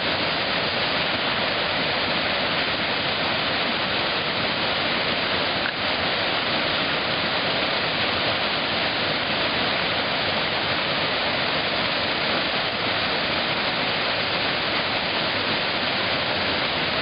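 Rushing water of the Kosiv waterfalls in a steady, loud, unbroken roar that fills the whole stretch, close by, with no talk over it.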